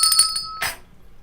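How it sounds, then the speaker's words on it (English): A small bell rings out with a bright, sustained chime and then gets a second clear strike that fades away, close and alone, rung to celebrate during a meeting. "We have to ring a bell."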